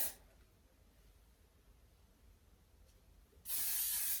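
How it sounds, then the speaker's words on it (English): Hairspray hissing from an aerosol can onto hair, a short burst at the start, then a quiet pause, then a louder, steady spray near the microphone at the end. "we're just going to spray it here"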